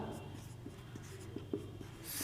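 A pen scratches a formula onto paper during a maths lesson, with faint, soft strokes and small taps in a quiet room.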